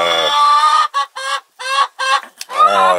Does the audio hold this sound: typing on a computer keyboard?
no